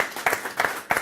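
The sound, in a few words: audience applause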